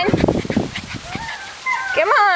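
Young puppies at about six and a half weeks old whimper and yip in high, wavering cries, close by, while a person keeps calling to them in a coaxing voice.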